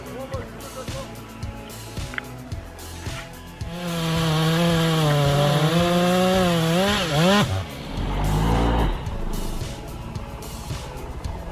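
A big chainsaw cuts a tree during monster stump removal, its engine snarling loudly and revving up and down over several seconds among other rough mechanical noise.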